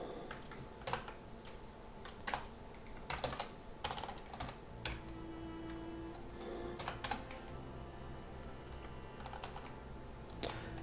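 Fingers type on a computer keyboard into a Flutter app text field, making quiet, close clicking keystrokes in irregular bursts with short pauses.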